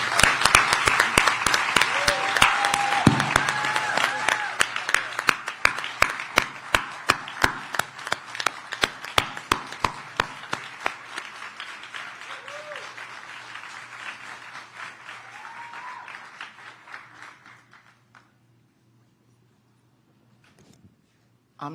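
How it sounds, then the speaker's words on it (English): An audience at the Essence Festival news conference in New Orleans claps for the Dennis family in slow, rhythmic, unison beats. The claps go on for about eighteen seconds, grow gradually softer, then stop and leave near silence. "thank them with what we communally accept as applause"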